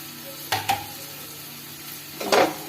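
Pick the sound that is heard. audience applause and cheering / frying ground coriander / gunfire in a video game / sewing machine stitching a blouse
frying ground coriander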